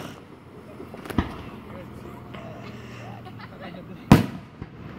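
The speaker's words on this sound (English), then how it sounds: "Fireworks are awesome." Two Fourth of July firework explosions burst out several seconds apart, the second louder and sharper, over a low hum with faint murmuring voices in the background.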